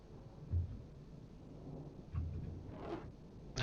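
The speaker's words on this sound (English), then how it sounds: "Now it sounds as though there's like a little bit of thunder in the air" Distant thunder grumbles and rolls through a live thunderstorm in the Train Sim World 6 railway game between Crewe and Birmingham, a few low booms rising over steady rain-like hiss, soft and far off.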